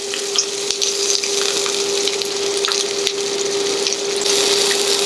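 A pork chop pan-fries over heat, producing a loud, dense, continuous sizzle and spatter close up, with a steady hum underneath and no voices.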